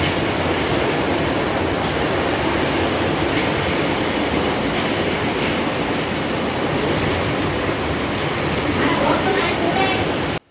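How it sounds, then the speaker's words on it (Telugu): Heavy rain pours down around a slab-roofed village house, a dense, loud, unbroken roar of falling water with faint voices underneath. "హాల్లో కూడా చాలా ఫుల్ వర్షం పడుతుంది."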